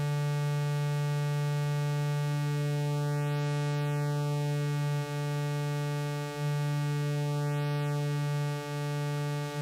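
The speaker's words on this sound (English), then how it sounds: "And the resonance on the notch." Synthesizer tone run through a resonant notch filter, a steady buzzy harmonic drone whose timbre sweeps slowly up and down twice as the notch moves, with no talking.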